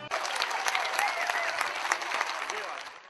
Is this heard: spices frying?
no